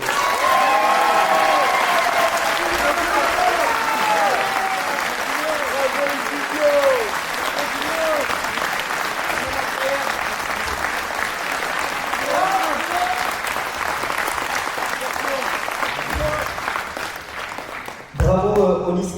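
A show audience claps loudly and continuously for a long stretch, the applause mixed with cheers and scattered voices, before it breaks off near the end.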